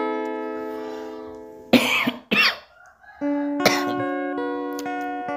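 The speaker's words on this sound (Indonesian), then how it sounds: "Maaf batuk." A single close cough in two sharp bursts, heard during stompbox guitar effect building in an aluminium casing, with steady electronic tones humming before and after.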